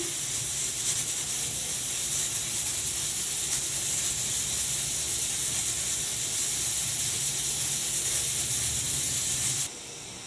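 Oil heats in a pan for an ivy gourd fry, giving a steady, moderately quiet hiss and sizzle that holds for about ten seconds before dropping away abruptly at the end, with no one talking.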